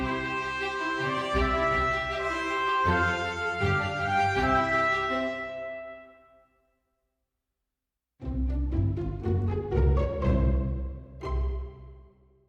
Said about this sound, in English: And if I mock this up for strings and trumpet, it can sound like this.